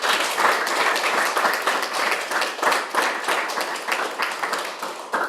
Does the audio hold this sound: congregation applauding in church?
yes